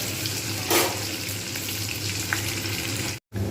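Potato, pointed gourd and paneer frying in a pan, turned side to side until reddish, giving a steady close sizzle with a brief louder burst of crackle and a short silent gap near the end.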